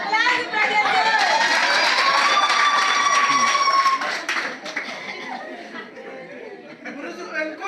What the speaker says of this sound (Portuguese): Aplausos para Jesus.